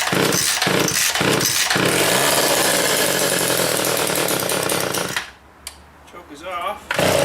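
A small arborist chainsaw roars loud and close at full running speed, buzzing steadily for about five seconds before dropping to a quieter, uneven idle.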